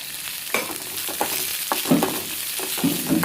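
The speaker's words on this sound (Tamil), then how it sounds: "கடலைப்பருப்பு பொன்னிறமாக ஆனதும் இந்த வெங்காயம் எல்லாம் போட்டுடலாம்" Onions and golden chana dal fry in a pan, with a steady close sizzle broken by several scraping stirs, no voices.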